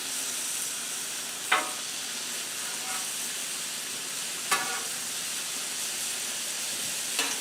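Lemon chicken and vegetables sizzle steadily on a Blackstone griddle, a broad constant hiss with a few sharp clicks or spatula taps standing out, and no talking.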